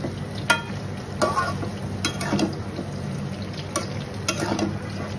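A spoon scrapes and knocks against a cooking pan as cauliflower is stirred near the end of simmering. A few sharp clinks stand out over a low, soft sizzle, with no talking.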